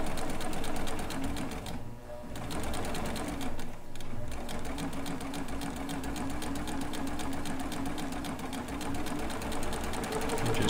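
A serger runs steadily and loudly, sewing a kimono, with its rapid mechanical chatter continuing almost without a break and dipping only briefly twice.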